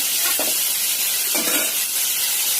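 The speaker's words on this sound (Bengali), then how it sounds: "এখন বরবটিটা ভেজে নিচ্ছি" Yardlong beans fry in a pan, a continuous hissing sizzle close by with two brief stirring scrapes standing out above it.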